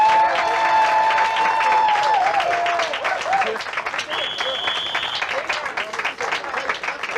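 Applause and cheering for an award honoree at a nonviolence youth summit: a full, steady roar of clapping with voices whooping and calling out above it, continuing strongly to the end.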